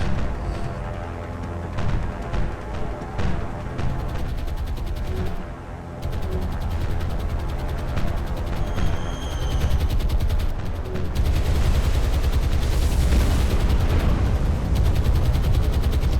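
Heavy anti-aircraft fire pours up from a battleship in the naval war game War on the Sea, a dense, relentless rattle of rapid gunshots with deeper booms, loud and sustained throughout.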